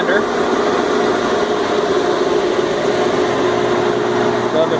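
A Denray 2800 downdraft sanding table dust collector runs with a loud, steady motor hum and constant rushing airflow, close and unbroken throughout.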